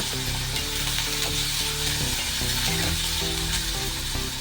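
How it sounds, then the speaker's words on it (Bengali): Cut, washed bitter gourd sizzles steadily in hot oil in a pan after fried lentil dumplings, with a spoon stirring and scraping throughout and no voices. "এবার এই তেলের মধ্যেই দিয়ে দেব কেটে ধুয়ে রাখা করলা। তেলের সঙ্গে বেশ ভালো করে এবার মিশিয়ে নেব।"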